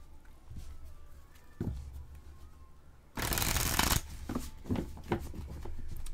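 Tarot cards shuffled before a five-card reading, with scattered soft card taps and slides, then a loud, dense riffling burst lasting under a second, followed by more handling sounds nearby.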